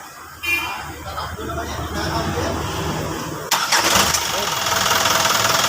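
An Isuzu 4HF1 diesel truck engine, in neutral, cranks and catches, then settles into a steady, loud rumbling idle, with people talking nearby throughout.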